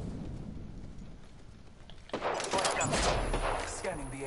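Gunfire in the battle-royale game Apex Legends, with quieter shots at first and then a loud, dense burst of rapid shots that starts midway and continues to the end.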